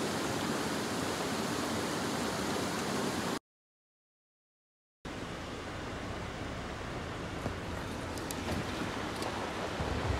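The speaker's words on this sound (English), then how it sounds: "This is Kelly Creek." Kelly Creek, a mountain creek in Idaho's Clearwater Mountains, rushes in a steady, loud broadband wash of flowing water with no voices, interrupted by a short stretch of total silence before the rush resumes.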